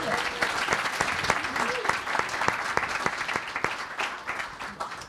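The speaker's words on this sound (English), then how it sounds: "You can clap for him." Audience clapping to welcome panelist Mike Hennessy at a sales panel event, a steady patter of many hands with sharper individual claps standing out, with some voice underneath.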